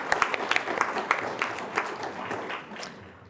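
Applause for faculty marking 25 years of service at a university faculty awards ceremony, heard as quiet, fairly distant clapping from a crowd that thins and fades toward the end.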